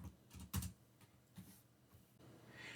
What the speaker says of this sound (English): I need to type this